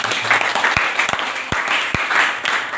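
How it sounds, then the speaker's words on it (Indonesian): Students in a classroom applauding a classmate, a steady wash of many hands clapping with a few sharper, louder claps standing out nearby. "tepuk tangan buat temennya"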